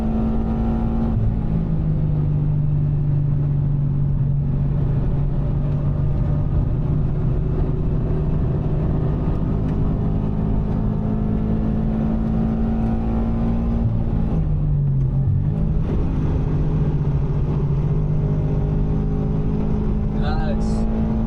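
A Subaru BRZ track car lapping a racing circuit, its engine a loud continuous drone heard from the cockpit, easing off briefly midway before pulling again, with an instructor coaching over the noise.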